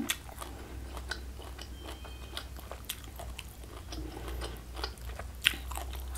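Close, quiet chewing and crunching while eating cassava leaves at a mukbang meal, soft irregular bites and wet mastication clicks continuing steadily with no talking.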